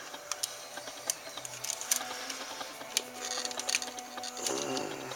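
Small screws being driven into a Transformers G1 Weirdwolf Headmaster toy during repair, heard as faint, irregular ticks and light plastic clicks with scraping handling noise and a low hum in a quiet room.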